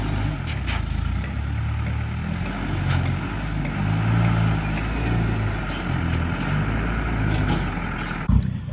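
Big delivery lorries rumble on a building site in Thailand, a deep steady engine drone with low idling throb filling the whole stretch, a brief clunk near the end.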